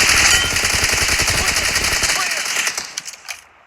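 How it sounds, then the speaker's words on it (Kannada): Rapid automatic gunfire from the BGMI battle royale game rattles loudly in quick bursts, then tapers off into a few scattered shots and silence. "ಸುಮ್ಮನೆ ಫೈರ್ ಮಾಡಿದೆ"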